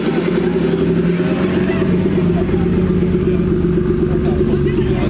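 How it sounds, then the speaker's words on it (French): A Toyota Supra drift car with an oversized exhaust idles and revs at a car meet, giving a loud, steady, rumbling engine drone that holds throughout, while people talk nearby. "Oh, voiture de drift, je me demande si c'est pas celle de Mike."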